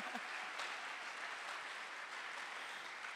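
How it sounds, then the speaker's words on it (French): A church congregation applauds and cheers for Jesus during a sermon, a steady, moderately loud wash of clapping lasting a few seconds with no clear speech over it. "Est-ce qu'on peut acclamer Jésus?"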